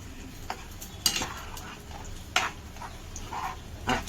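Tadka being stirred for chukyachi bhaji, with cooked chana dal and peanuts going into the pan: a low sizzle under several sharp spoon-on-pan clinks and scrapes, close and moderately loud.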